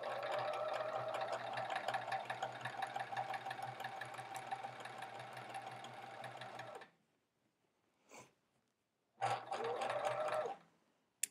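A sewing machine runs in a long steady stitching burst while quilt sashing rows are joined, stops briefly with a faint tap, then starts again in a second shorter run, loud and close.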